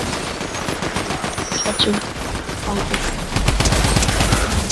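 Rapid automatic fire from the spammer weapon in Fortnite, a dense, steady stream of shots that grows heavier toward the end, with a voice speaking briefly over it.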